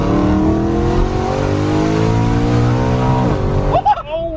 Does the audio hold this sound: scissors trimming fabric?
no